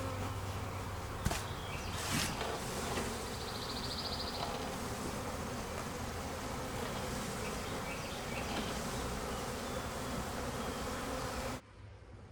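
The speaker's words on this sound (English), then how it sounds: "I've got a queen on my head because this is where all the bees are gathering" A massive swarm of honeybees buzzes steadily and densely around a beekeeper's head outdoors, a continuous loud hum with a couple of brief knocks, cutting off abruptly near the end.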